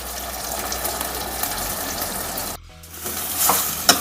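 Soaked urad dal and rice with vegetables frying in a pan for Pahadi urad dal khichdi, a steady loud sizzle that cuts out briefly near the middle, then returns with some stirring scrapes.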